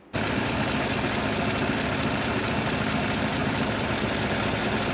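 A 2014-2018 Chevrolet Silverado 1500 5.3L V8 engine starts up abruptly and settles into a steady, even idle, a continuous close rumble with no talking.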